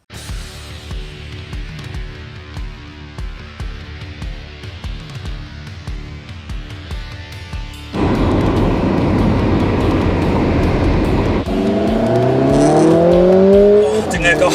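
A Mercedes-AMG A45 S 4MATIC+ hot hatch is driven hard: after a musical opening, a loud, close engine and exhaust roar takes over, with revs climbing in rising sweeps near the end and faint talk underneath.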